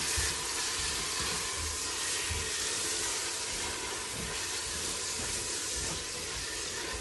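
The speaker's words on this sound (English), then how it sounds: "I'm just waiting for the onion to fry a bit." Steady, even sizzling and hissing of onions frying in hot oil in a pot, continuous and close with no talking.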